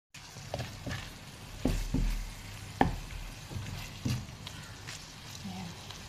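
Chicken sautéing in a pan for Filipino tinola, with a steady low sizzle broken by several sharp stirring clatters and scrapes at a moderate, close level.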